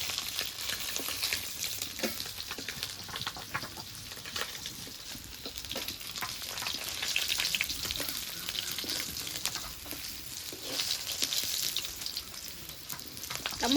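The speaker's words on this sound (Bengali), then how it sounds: "বাকি মাছগুলো এইভাবে ভেজে নেব" Rita fish fry in hot oil with a continuous crackling sizzle, broken by occasional soft scrapes and stirring knocks, close and moderately loud.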